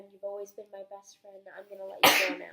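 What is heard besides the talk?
sneeze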